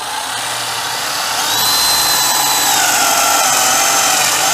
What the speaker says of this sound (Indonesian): coba saya bor dengan menggunakan baterai Chameleon ini.